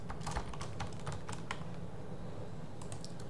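Python code is typed on a computer keyboard: a close run of rapid, crisp keystrokes, then a short pause and a few more taps, with no voice.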